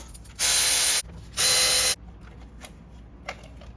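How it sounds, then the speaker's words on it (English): Ratchet turns a bolt on a Porsche Cayenne coolant hose in two quick bursts of loud, rapid clicking, each lasting about half a second, followed by a few faint taps and clinks. "now I can unscrew it up here at the front and pull it out"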